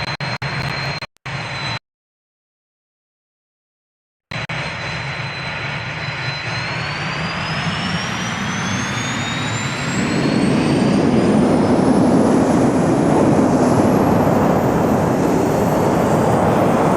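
Jet engine in a video game spins up after a short silence, a steady whine rising in pitch and growing into a loud sustained roar.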